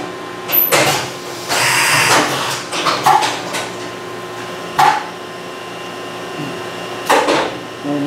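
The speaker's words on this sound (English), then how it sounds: "the machine's changing tools now" A Fanuc OM CNC mill performs an automatic tool change, giving a series of mechanical clunks, whirs and pneumatic hisses in irregular bursts over a quiet hum.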